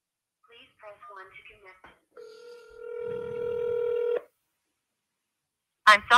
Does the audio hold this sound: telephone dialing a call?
yes